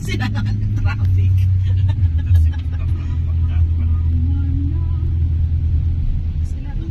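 Road traffic on a rainy-season day: a loud, low engine rumble from vehicles close by, steady with swells as they pass, and people talking over it.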